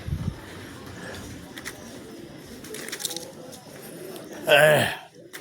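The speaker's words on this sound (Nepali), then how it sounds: "चराचुरुङ्गीहरू बस्ने ठाउँ यहाँ" Birds, likely pigeons or doves, coo and call softly at an outdoor roosting spot, mostly faint and scattered, with one louder call near the end, while people talk nearby.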